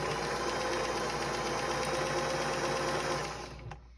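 A sewing machine stitching a quilt block for a star table topper runs in a steady, fast, even whir with a rapid mechanical rattle, close and continuous before slowing and stopping near the end.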